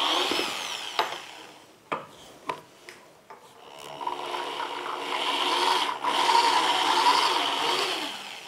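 A Bosch GSB-13 drill with a 10 mm bit bores into a solid concrete wall column. A few short bursts open the clip, then a steady, loud grinding whir runs continuously to the end.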